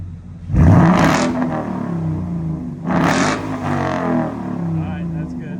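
Ford Mustang GT S550 fitted with an SR Performance axle-back exhaust, revved twice in quick bursts, loud and close, each rise falling back to a rumbling idle, with voices talking over it.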